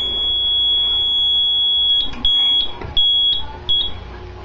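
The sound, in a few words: fire alarm panel triggered by smoke detector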